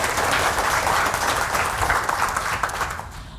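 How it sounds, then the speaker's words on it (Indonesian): Audience applause at an Indonesian health education seminar, a dense steady wash of many hands clapping close and loud for about three seconds, fading slightly at the end with no talk over it. "Tepuk tangan buat kita semua dong Bapak sekalian ya."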